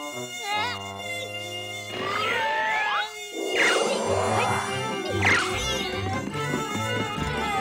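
A cartoon mosquito's high, wavering buzz sweeps up and down among comic sound effects and low musical tones, with chase noises and a brief crash mixed in.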